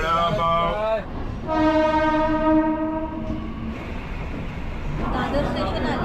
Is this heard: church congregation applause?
no